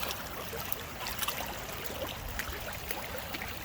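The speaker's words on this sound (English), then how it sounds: "Man, look at all this water, Chloe." Rainwater rushes through a blocked drainage channel after heavy rain, a steady broadband wash of flowing, trickling water that sounds close and continuous, with small splashy surges and no voices.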